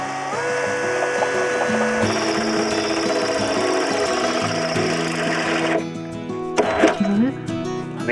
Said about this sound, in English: let's see how long it takes to drill the ones under the van now